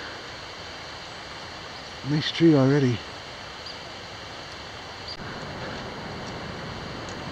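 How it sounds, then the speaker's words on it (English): Pine Creek flowing near a trailhead on a cold, clear, windless morning, a steady broadband rush of water running throughout, with a brief spoken remark over it partway through. "That noise you hear is the Pine Creek flowing."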